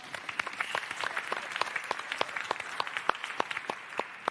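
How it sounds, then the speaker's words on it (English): Conference audience applauding, a light scattered round of distinct claps from a modest crowd, fairly sparse and even throughout. "Can we have a round of applause for them as well?"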